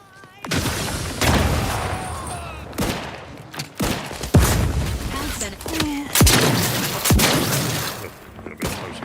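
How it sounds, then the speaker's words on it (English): Grenade explosions and battlefield gunfire in The Outer Worlds 2 video game, with several loud booms and bursts spread across the stretch amid busy combat noise, and a voice talking faintly underneath. "Man, they like their grenades, don't they?"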